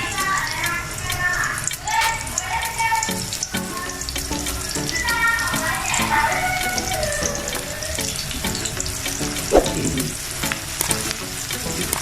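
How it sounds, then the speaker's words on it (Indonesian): Shallots hit hot oil in a pan and sizzle loudly and close up, with stirring scrapes while the pan fries the aromatics for a dried salted fish and torch ginger stir-fry. A voice talks briefly at times. "aku masukkan bawang merahnya ya guys."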